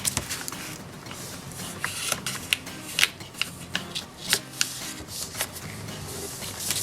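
Origami paper is folded and creased by hand, giving soft, crisp rustles and sharper crinkling snaps at an irregular pace, close by and fairly quiet.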